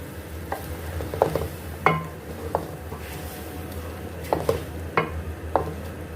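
Blended green chili, yogurt and almond paste being stirred into beef in a pot for a handi, with a series of spaced scraping and clinking spoon strokes over a low sizzle; no voices.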